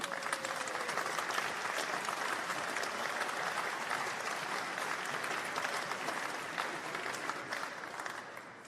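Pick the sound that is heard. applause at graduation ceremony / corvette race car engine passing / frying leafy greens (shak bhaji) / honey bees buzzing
applause at graduation ceremony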